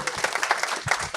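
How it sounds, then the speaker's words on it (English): Applause for a startup pitch at a business tune-up event, a short burst of clapping from a small audience with a few distinct sharp claps standing out. "Big round of applause."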